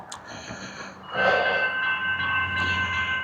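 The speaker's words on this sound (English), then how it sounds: "the train is popping into Seaholme station in there." A train pulls into Seaholme station, a rumbling approach that swells into a loud metallic squeal and hiss at close range, with a brief high tone near the end and no voices.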